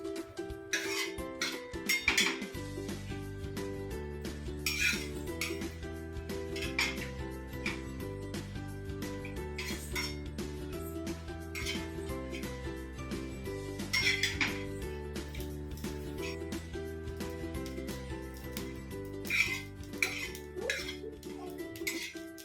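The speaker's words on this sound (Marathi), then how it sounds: "खोबरं पटकन भाजलं जातं." Coconut roasting in a pan with steady stirring: a soft continuous scraping and light clinking of a utensil against metal, with faint background music running throughout.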